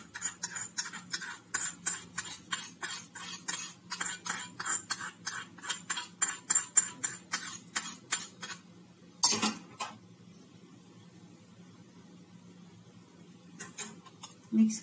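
A spoon stirs semolina with black pepper and a spiced tempering in a bowl, giving quick rhythmic scraping taps for several seconds, then one sharp knock and quiet.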